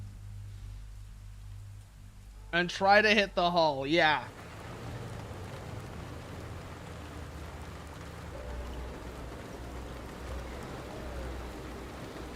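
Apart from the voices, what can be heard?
rain in tank video game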